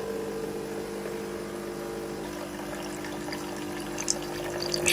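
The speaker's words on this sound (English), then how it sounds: "This is just rinsing the machine now." A Nespresso Gemini coffee machine hums as its pump pushes water through during a rinse cycle, a steady droning whine close up, rising slightly toward the end with faint water trickling.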